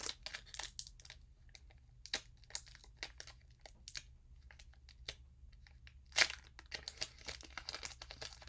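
Pokémon TCG booster pack from an Elite Trainer box being handled and torn open, giving faint, close crinkling and crackling of foil wrapper in irregular bursts with one sharper rip.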